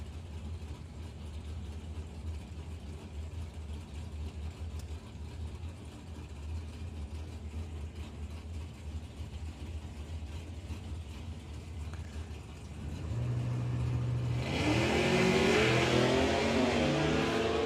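Chevrolet Camaro drag racing car in Pro ET class at a drag strip, with a steady engine rumble that swells into a loud, rising roar near the end.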